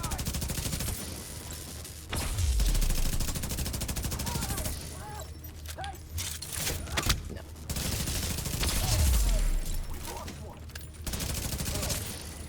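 Heavy gunfire from The Division 2 video game comes in sustained bursts and dense volleys broken by short lulls, with deep booming impacts, loud and close throughout.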